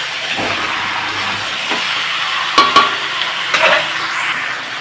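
Chicken curry being stirred in a pan, a steady loud sizzle with scraping strokes and a few knocks of the spoon against the pan.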